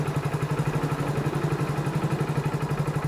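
Hero Splendor BS6 motorcycle engine idling at low RPM, a steady, even low thrum with a regular pulsing beat, close and continuous with no talk.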